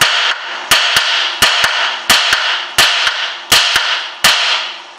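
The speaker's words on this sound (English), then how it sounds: "So I'm going to hit the top bolt." Sharp metal-on-metal hammer blows strike the top bolt of a Citroen C5 rear brake caliper, about ten loud close impacts landing in quick pairs and singles, with no talk.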